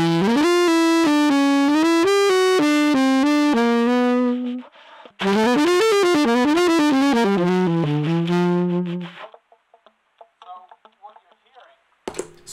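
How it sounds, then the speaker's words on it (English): Saxophone run through a Keeley Stahlhammer pedal set for saturated solid-state distortion, playing buzzy, gritty melodic phrases in two bursts with a short gap, then trailing into faint decaying notes near the end. "I'm going to change it from the more warm tube distortion to the more saturated solid state"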